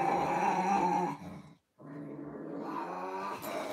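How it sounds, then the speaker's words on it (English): Low, sustained growling from an older, overprotective dog, close and fairly loud, broken by one brief pause before it resumes. "Growls while he's so overprotective"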